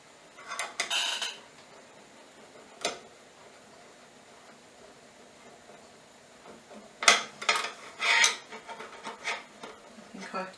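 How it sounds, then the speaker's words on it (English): A metal fish slice scrapes and clatters against a skillet while prying loose a stuck homemade crumpet, with a short burst early, a lone knock near three seconds, then a cluster of louder scrapes toward the end. "we managed to get the fish slice under it and move that one"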